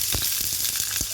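Saag heats in a pan on the stove, giving a steady close sizzle with soft crackles and a few brief stirring scrapes.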